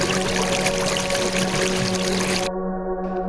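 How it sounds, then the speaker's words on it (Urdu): Meltwater from snow flows in a steady, full rushing stream, close and continuous, with the higher splashing texture dropping away abruptly near the end while a low flowing rumble carries on. "برف کے پگھلنے سے پانی کے بہنے کی آواز تک،"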